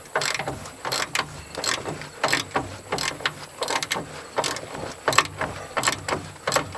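Steady rhythmic clicking of a hand ratchet loosening a long, rusted bolt under a Mazda B2200 pickup, repeated strokes in quick bursts with short pauses between, close and fairly loud.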